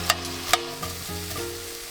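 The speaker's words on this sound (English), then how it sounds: "We start our luxor with cubing the fish and frying that off." Cubed fish fries in a pot aboard a boat, with a steady crackling sizzle and a few sharp scraping stirs near the start.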